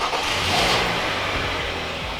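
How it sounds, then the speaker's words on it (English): A car engine runs steadily with a broadband revving drone at close range, holding a loud, even level throughout with no clear cranking or catch at the start. "We are going to try to start in the car."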